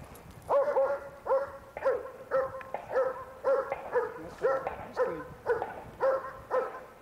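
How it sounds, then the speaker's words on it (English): A police K-9 dog barks at a suspect in a close, loud series of about a dozen evenly spaced, sharp barks. "the dogs are trained to intimidate only. By barking at the feet of the suspect, they are able to keep them from running away."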